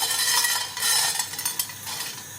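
Seeds are tossed into a dry frying pan to toast, giving a close rattling scatter and light stirring scrapes over a soft, steady hiss.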